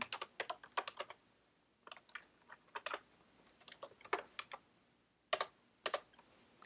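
Quick bursts of typing on a computer keyboard, close and crisp, with irregular clusters of key clicks separated by short pauses.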